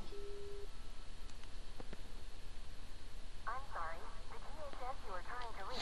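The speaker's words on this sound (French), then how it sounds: "Forcément, il est sur répondeur." Phone call in the video game Tales of Xillia 2 reaching voicemail: a steady electronic tone followed by warbling synthesized chirps, moderately loud over a low background hum.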